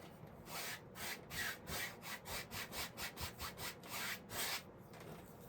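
A cloth or rag rubs oil paint off a canvas during an oil seascape painting, a steady back-and-forth scrubbing with a strong even rhythm of about a dozen close, loud strokes and no talking.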